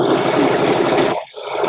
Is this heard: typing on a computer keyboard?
no